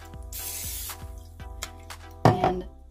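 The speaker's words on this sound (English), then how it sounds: "One more time with the spray." Cooking spray hissing in one short burst onto a Dash mini waffle maker, followed by faint clicks and a louder brief rattle near the end.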